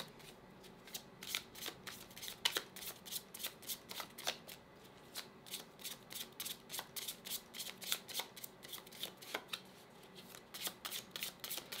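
Tarot cards being shuffled by hand, crisp rapid riffles and flicks in an irregular run of short bursts, close and fairly quiet, with no speech.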